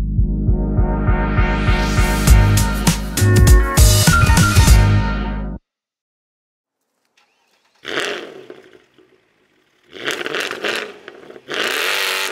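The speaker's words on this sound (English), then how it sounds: "We're going to take the car for a spin" A tuned Mercedes C63 AMG with a 530 bhp V8 roars loudly and steadily up close while accelerating for about five seconds. After a pause of silence, three shorter bursts of engine noise come in separated by quiet gaps.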